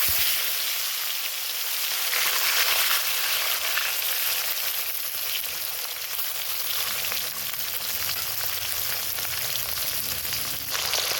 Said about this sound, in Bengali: তেল গরম হয়ে গেছে এখন আমি মাছগুলো এখন ভেজে নেব